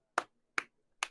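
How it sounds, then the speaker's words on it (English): A slow hand clap of three sharp, evenly spaced claps roughly 0.4 seconds apart, close and fairly quiet, with nothing else around them. "I'll give it a slow clap."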